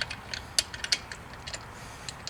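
A wrench ratchets on a wheel's key nut during a tire rotation, a quick series of light metallic clicks and ticks, close and alone.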